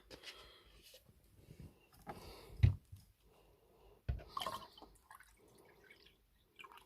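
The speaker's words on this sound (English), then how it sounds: "I'm going to top up the water." Water being poured to top up a Sea Monkey tank, with scattered drips, splashes and small clicks of the container, mostly quiet with a few louder plops.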